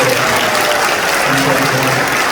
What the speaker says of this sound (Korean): 다시 한번 박수로 보내주십시오.